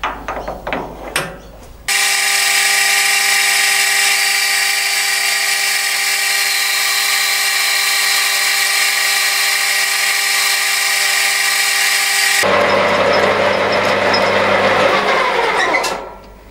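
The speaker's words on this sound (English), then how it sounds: "now I'll just use a parting tool to put a bit of thread relief in there" A metal lathe runs with a parting tool cutting a thread relief, giving a loud, steady machining whine with tonal hum that starts abruptly and holds for about ten seconds before shifting to a rougher mechanical sound.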